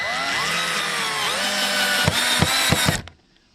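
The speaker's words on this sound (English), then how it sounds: "I just drilled through to the wood underneath." A power drill bores through discarded pallet wood, a steady loud whine for about three seconds with a few stuttering bursts near the end as the bit catches, then cuts out to near silence.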